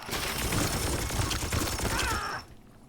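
Weapons fire in the turn-based game Warhammer 40K Chaos Gate Daemonhunters, a dense, loud burst of rapid shots and crackling impacts lasting about two seconds, then a short mechanical whir before it cuts to near silence.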